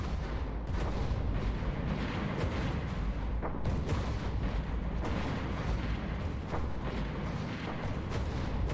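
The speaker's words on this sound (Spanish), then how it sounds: "Te escucho muchas explosiones, pero yo creo que ya han caído." Rapid rumbling explosions and booming blasts from a space battle in the video game Stellaris pile up continuously, a dense, chaotic barrage of battle noise with sharp bursts scattered throughout.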